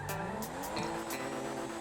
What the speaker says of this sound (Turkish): Araç çok kayıyor gerçekten.